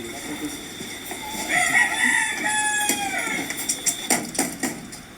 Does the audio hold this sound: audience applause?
no